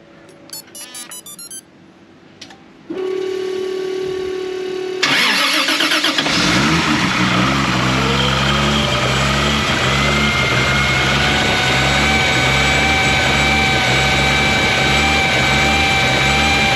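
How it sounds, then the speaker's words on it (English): Turbocharged car engine fitted with a Turbosmart OPR T40 oil restrictor cranks and fires on a dead cold start, settling into a loud, steady idle with a rising whine close by, no voices. "Now this is dead cold start, so I believe it's going to have a lot of oil pressure."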